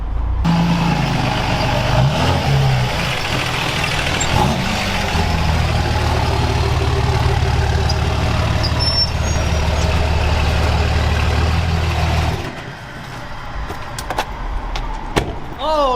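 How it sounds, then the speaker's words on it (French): A Dodge 4x4 engine idling, a steady, loud low rumble that holds for about twelve seconds and then drops away, leaving quieter background noise. "Donc on va brancher sur les cigares du Dodge et le mettre au ralenti."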